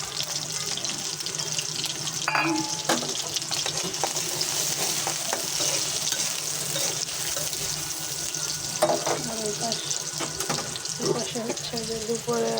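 Onions sizzling in a pan while noodles cook, a steady dense frying hiss running throughout with occasional clinks and stirring scrapes on top.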